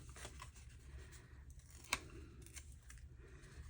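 Paper is torn by hand around a shape for a junk journal, giving soft, close ripping and rustling in short strokes, with one sharper snap midway.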